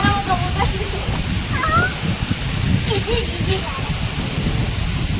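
Heavy stormy evening rain pours steadily in a dense hiss with low rumbling beneath, while voices talk over it and a few birdlike chirps break through.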